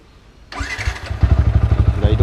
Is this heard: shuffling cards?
no